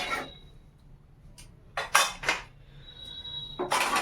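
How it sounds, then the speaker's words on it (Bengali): A lid settles onto a cooking pot in a few sharp metallic clanks and clatters, close and bright, with quiet gaps between, no talking. "এবার ঢেকে দেবো"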